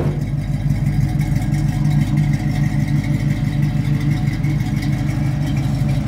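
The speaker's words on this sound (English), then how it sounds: "You can hear the low rumble of the dual exhaust." A 1969 Camaro SS350 coupe with dual exhaust idles in a steady, close low rumble with an even pulsing throb and no revving.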